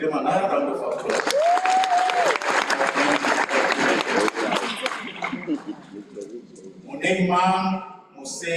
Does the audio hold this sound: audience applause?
yes